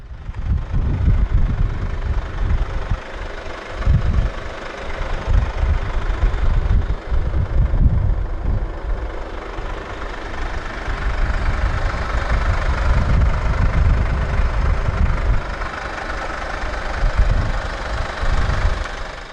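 A 2016 Infiniti Q50 2.2d diesel idles with a steady, loud, low rumble and a gritty diesel clatter. The engine holds a constant pace throughout with slight rises and dips in level and no talking.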